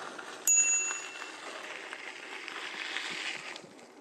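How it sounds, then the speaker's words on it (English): A bicycle bell rings once with a clear, close ding that fades into a steady rush of wind and road noise during a sunset ride. "Ding the bell so we don't crash into anyone."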